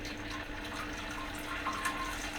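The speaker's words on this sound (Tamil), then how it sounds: "இங்கே நம்ம உட்காந்ததும் தண்ணி கொட்ட ஆரம்பிக்குதுங்க." Water runs steadily into a high-tech toilet bowl triggered by a pressure pad, a faint continuous gush and trickle heard close with no voices.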